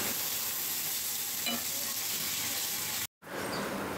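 Ginger garlic paste frying in oil alongside fish roe in a pan, a steady dense sizzle throughout with a brief cut to near silence near the end.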